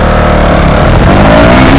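KTM Duke 200 motorcycle pulling hard in first gear on an open road, a loud, continuous engine roar with rising revs close to the microphone and no talking.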